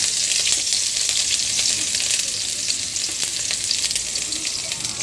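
Onion and garlic sizzle steadily in a hot pan for chicken adobo, a bright, constant frying hiss close up with faint crackles and no talking.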